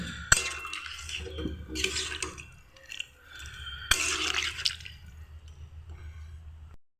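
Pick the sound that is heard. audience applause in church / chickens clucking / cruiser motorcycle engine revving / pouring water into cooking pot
pouring water into cooking pot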